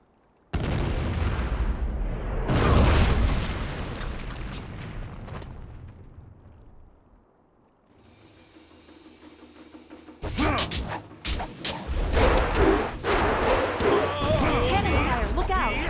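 Heavy booming blasts and crashing impacts of cannon fire in the video game Jade Empire, in loud bursts, a quieter rumbling lull in the middle, then another explosive barrage.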